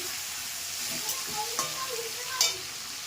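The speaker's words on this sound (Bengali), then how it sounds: "এর মধ্যে আমি দিয়ে দেবো টমেটো কুচি। এটাও ভালো করে ভেজে নেবো আমি, একদম কষে যাবে পেঁয়াজের সাথে তেলের সাথে।" Chopped tomato fries with onions in oil, a soft continuous sizzle broken by a few light stirring scrapes and taps of a spoon against the pan, close and fairly quiet.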